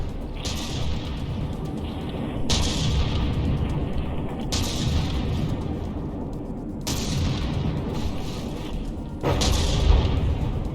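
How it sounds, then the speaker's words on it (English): Battleship combat in the game From the Depths: repeated heavy explosions and shell hits, four sharp booming blasts spaced a couple of seconds apart, each decaying into a rumbling roar over constant low engine drone. "Just explosions and fragments covering it."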